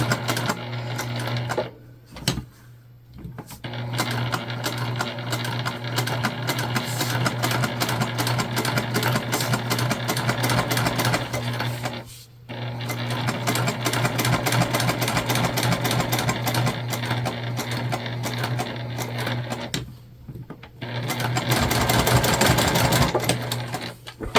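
A sewing machine stitches a curved seam on a candy bag, its loud, close, rapid whir running almost nonstop with three brief pauses where it stops and starts again.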